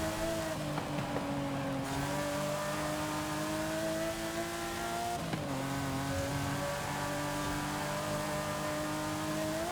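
A drag car's engine in Forza Horizon 5 revving hard and steadily at a high pitch, dipping briefly twice as it shifts, then climbing again, loud and close.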